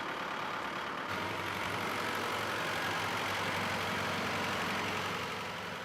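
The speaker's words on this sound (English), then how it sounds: "Unbelievably, the engine seems to be ticking over fine." An old engine ticks over steadily at idle, close and fairly loud, with a low rumble that deepens after the first second and holds an even, continuous drone with no voices.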